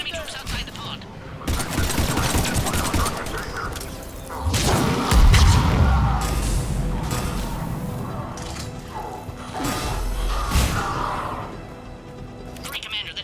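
Gunfire crackles through a firefight in Mass Effect 3, Cerberus troops shooting at a checkpoint, with dense bursts and heavy thumps layered over game dialogue and voices talking throughout.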